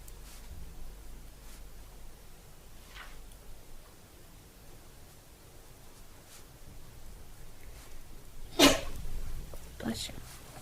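A sneeze during a municipal commission meeting, one sharp burst standing out briefly above the faint room tone of a quiet council chamber.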